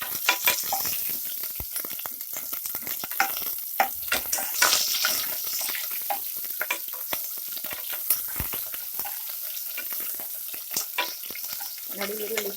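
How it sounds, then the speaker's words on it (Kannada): Onions with curry leaves frying in a pan for an avarekai masala sambar, a steady close sizzle with scattered crackles and occasional stirring scrapes throughout. "ನೋಡಿ, ಈರುಳ್ಳಿ ಫ್ರೈ ಆಗಿದೆ"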